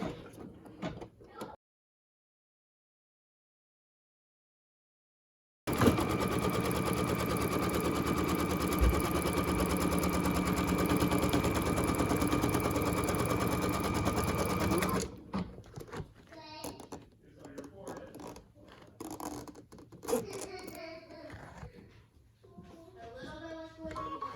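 An embroidery machine stitches an in-the-hoop zipper purse from cotton, a loud, steady rapid needle chatter running for several seconds after a silent gap, then stopping, followed by rustling handling and a quiet voice.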